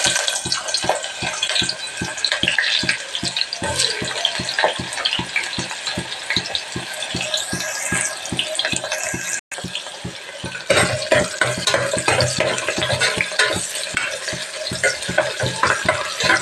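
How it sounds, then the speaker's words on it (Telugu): Onions go into heated oil in a home kitchen pan for mutton curry, giving a loud, steady, dense sizzle that runs on almost without a break, with repeated stirring scrapes under it. "ఆయిల్ వేడెక్కిందండి. ఇప్పుడు మనము ఫస్ట్ ఉల్లిపాయలు వేసుకుందాం."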